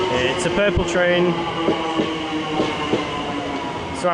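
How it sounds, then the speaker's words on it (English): A TfL Rail Crossrail train in London rumbles with a steady mechanical hum, wheel clatter and occasional squeals, heard up close with background station or carriage noise. "It's called TfL Rail for now, but really, this is a Crossrail train."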